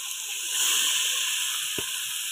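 Hot oil heated for mutton sizzles in a pan on a wood-fired chulha, a steady close hiss with one soft low knock near the end.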